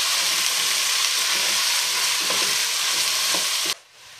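Piperade, the Basque pepper and tomato dish, simmering and sizzling steadily in a pan, a dense continuous hiss close up and alone, cutting off abruptly near the end.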